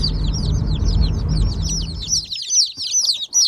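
Sebright and Bantam Cochin chicks peep in a shipping box, a dense stream of high, rapid chirps running throughout, over a low rumbling background that cuts out partway, leaving the peeping nearly alone.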